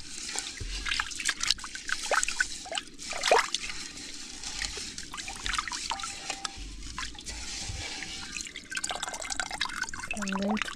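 Rice is rinsed by hand in water, with trickling, dripping and swishing splashes in an irregular rhythm close by, along with faint scraping and a few soft clinks.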